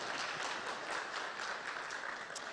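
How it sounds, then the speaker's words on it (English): Audience applause fills a dance celebration event, a steady dense wash of many hands clapping throughout with no voices standing out. "I think you can clap a little bit louder."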